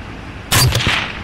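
A single loud rifle shot fired at a beaver from a riverbank during a hunt, a sharp crack with a brief echoing tail, standing out against quiet background hum.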